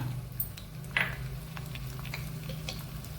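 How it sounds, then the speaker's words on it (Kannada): Seven or eight garlic cloves fry in hot oil for a spicy chicken pickle, a soft steady sizzle with a brief spatter and a few light stirring clicks, no talking. "ಎಣ್ಣೆ ಹಾಕ್ಕೊಂಡು ಎಣ್ಣೆ ಸ್ವಲ್ಪ ಬಿಸಿಯಾಗುವಾಗ ಈ ಒಂದು 7-8 ಬೆಳ್ಳುಳ್ಳಿಯನ್ನು ಇದರಲ್ಲಿ ಹಾಕ್ಕೊಂಡು ಹುರಿಯೋಣ."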